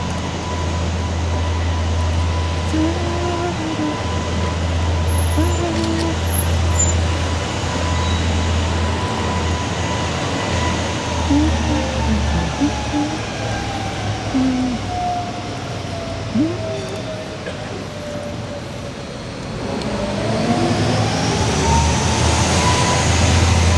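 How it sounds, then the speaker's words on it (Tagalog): Trains rumble and hum at Basel station as a steady, loud rail drone with a long sliding whine, faint hoots and clanks over a low throb that carries on for over twenty seconds. "Puro train lang dito ah"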